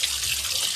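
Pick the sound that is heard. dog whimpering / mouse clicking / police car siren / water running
water running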